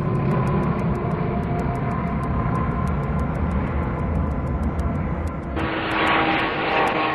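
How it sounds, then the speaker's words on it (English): A propeller aircraft in flight, its engine and airscrew droning steadily with a broad rushing roar and a rapid pulsing beat, loud and continuous, turning brighter and hissier near the end. "an aircraft like this? With propellers producing lift for vertical takeoff, then turned through 90 degrees to provide thrust for conventional flight?"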